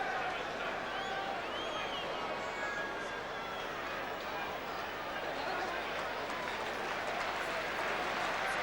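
A rugby league stadium crowd at Central Park applauds Shaun Edwards in a broad, steady roar of clapping and cheering, distant and diffuse, with a commentator speaking over it.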